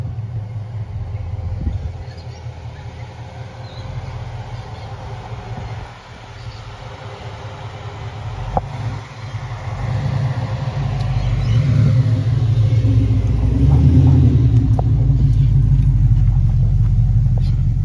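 A supercharged LS7 V8 car engine rumbles low and steady at idle, then swells louder and fuller in the second half as it revs.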